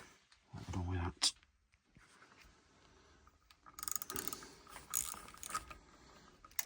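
Socket ratchet loosening bolts on a Land Rover Defender TD5 swivel during a workshop restoration, with short bursts of rapid clicking separated by pauses, close by, along with tool handling and a brief spoken word.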